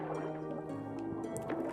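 Soft, steady splashing and gurgling water plays as a character swims in the Yooka-Laylee video game, continuous and fairly quiet beneath sustained game tones.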